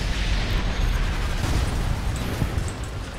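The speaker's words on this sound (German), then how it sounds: "Hey, was ist denn da noch explodiert?" A dense, rumbling explosion in the video game Sniper Elite 4 fills the clip, a sustained loud roar of blast and debris without distinct separate bangs.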